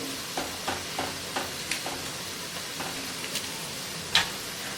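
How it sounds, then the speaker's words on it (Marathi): Quiet frying of onion sautéing in a pan with a soft sizzle, punctuated by light, regularly spaced taps of a spatula against the pan. "हा कांदा व्यवस्थित परतून घ्यायचा आहे"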